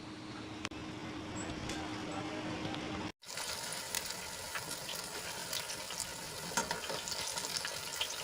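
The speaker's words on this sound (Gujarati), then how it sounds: "બંને બાજુથી ક્રિસ્પી થાય ત્યાં સુધી આપણે એને તળી લેવાના છે" Wheat flour breakfast snack deep-frying in hot oil until crispy and golden, a steady close crackling sizzle that runs throughout with a brief dropout near the middle and occasional faint clinks.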